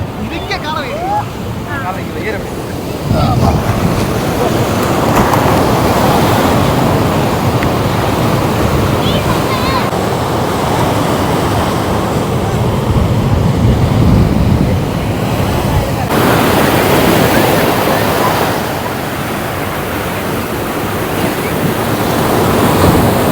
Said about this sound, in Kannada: ನೋಡಿ ಎಷ್ಟು ಸೌಂಡ್ ಬರುತ್ತೆ, ಎಷ್ಟು ದೊಡ್ಡ ಅಲೆಗಳು ಬರ್ತಿದೆ